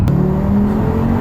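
Audi TT RS with a stage 2 tune and a 2.5-litre five-cylinder making 575 Nm, its engine droning loudly and steadily from close by, a deep sustained tone with a slight rising pitch, no talk over it.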